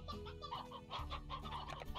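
Chickens clucking repeatedly in Slime Rancher, a steady busy chatter of several birds over a continuous game music bed.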